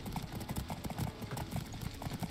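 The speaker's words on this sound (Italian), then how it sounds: "Addirittura un cavallo da guerra pesante." Heavy war horse in a video game set at the Battle of Thermopylae, its hooves clip-clopping in a quick, steady rhythm that is close and prominent throughout.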